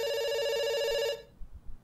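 A telephone rings with a steady electronic bell tone in a video game, one sustained ring that cuts off abruptly, followed by a few soft low thumps.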